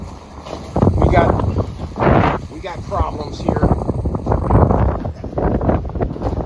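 Strong wind buffets the microphone in loud, gusty rushes on a cruise ship balcony of the Jewel of the Seas in Amsterdam, with a voice speaking over the roaring outdoor air.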